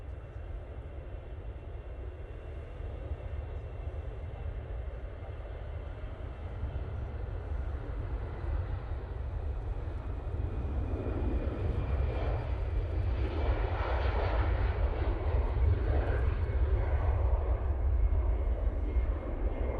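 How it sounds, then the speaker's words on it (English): An EasyJet airliner departs Manchester Airport, a deep, rumbling jet roar that builds gradually over about twenty seconds, heavy in the low end and growing louder toward the end, heard alone without talk. "EasyJet just departed"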